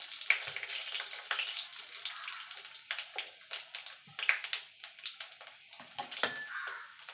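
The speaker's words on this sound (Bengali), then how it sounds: "এবার ফোড়নে দিয়ে দেবো একটা গোটা শুকনো লঙ্কা, আর দিয়ে দেবো পাঁচ ফোড়ন কিছুটা।" A whole dried red chilli and five-spice seeds crackle in hot mustard oil for a vegetarian Malabar spinach curry, a close, moderately faint sputter of irregular pops and hisses.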